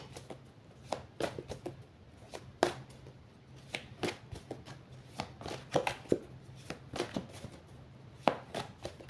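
Tarot cards shuffled by hand in quick irregular bursts of crisp riffling and slapping taps, close and fairly quiet, with no talking.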